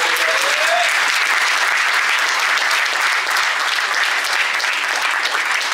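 Audience at a business coaching meeting applauding a student entrepreneur named Zafrir: dense, steady clapping from a large crowd, loud and close, with no letup for several seconds.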